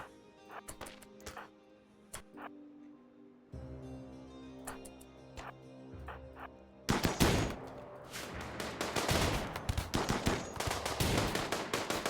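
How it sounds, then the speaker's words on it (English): Gunfire from a RimWorld battle in which a revolver is among the weapons: scattered sharp pops at first, then a loud, dense barrage of rapid shots from the middle to the end. "There's a headshot with the revolver."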